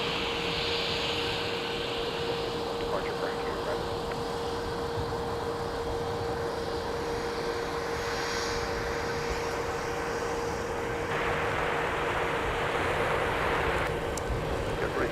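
An airplane arrives on runway 12 right at MSP airport in winter, a steady, broad jet roar that swells slightly near the end, heard from a distance with no talking.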